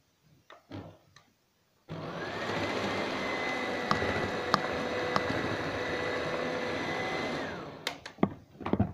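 An electric hand mixer whirs steadily for about six seconds as it blends coffee into chocolate cake batter, with brief clatter from the bowl before it starts and after it stops.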